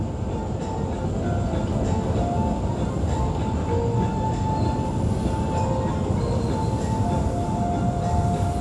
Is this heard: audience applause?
no